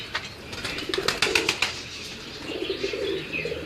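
Pigeons in a fancier's loft coo and flap their wings close by, a cluster of quick wingbeats followed by soft throaty cooing.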